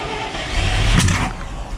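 An old dump truck engine cranks and catches in one brief, loud burst that swells near the midpoint and then settles into a steady rumble, heard close up with no talking.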